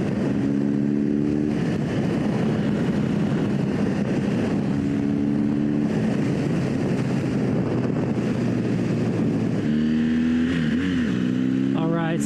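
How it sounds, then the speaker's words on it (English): A vehicle on Michelin Anakee Adventure tires accelerates at full throttle on a highway. A loud, continuous engine drone rises in pitch under heavy wind rush, then climbs again near the end. "I'm going to go ahead and punch it a little bit. A little bit more, a little full throttle."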